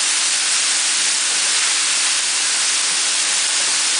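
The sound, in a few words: ground beef patties sizzling in oiled pan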